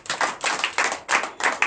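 A congregation at a morning prayer service claps in unison in a quick, regular rhythm, bright and fairly close, with no talk over it.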